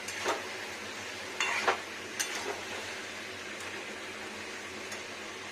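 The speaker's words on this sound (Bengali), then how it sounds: "এবারে সুন্দর করে নাড়া দিই ধনে গুঁড়ো" Spices such as coriander powder and chili powder are stirred in a small kadai, with a few scraping clinks of the spoon against the pan over a quiet low hiss.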